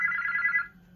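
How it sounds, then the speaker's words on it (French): A mobile phone goes off indoors during a craft presentation, giving a short bright electronic ring that sounds briefly at moderate volume before cutting out into quiet room tone. "C'est mon téléphone."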